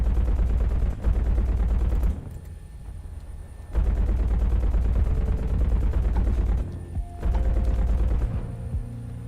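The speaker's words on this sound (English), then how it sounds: "Holy shit, the ZSUs are firing" Distant ZSU anti-aircraft guns in a helicopter combat video game pound out long rapid bursts, each lasting a couple of seconds and separated by short pauses, a dense rumbling stream of fire with no talk over it.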